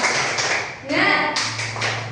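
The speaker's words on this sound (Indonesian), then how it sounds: "Lagi tepuk semangat" Children in a classroom clap a quick rhythmic spirit pattern in bursts, loud and close, with a teacher's voice and children's chanting mixed in.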